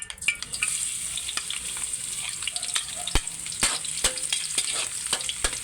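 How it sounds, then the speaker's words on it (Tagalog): Garlic sautéing and sizzling in a hot pan while being stirred for pancit bihon, with a steady frying hiss throughout and scattered sharp ticks and scrapes from the spatula, up close and alone. "Ngayon guys, mag-isa na tayo ng bawang."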